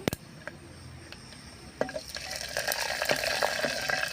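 Cluster figs fry in a pan with a gentle sizzle and occasional stirring scrapes, the frying growing louder and denser toward the end, close by with no talking.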